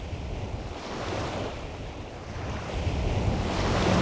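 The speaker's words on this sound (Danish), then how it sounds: "Og den her bølgelyd, det er jo også bare sådan en, der er rigtig beroligende." Sea waves wash onto the shore at a house in Sillerslev, a continuous soft roar of surf that swells and recedes slowly, mixed with steady wind noise and no voices.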